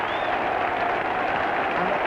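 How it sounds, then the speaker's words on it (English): A football stadium crowd in the stands applauding a player coming off, a dense, steady wash of clapping with a commentator's voice over it. "all around me in the stand people are standing up and applauding"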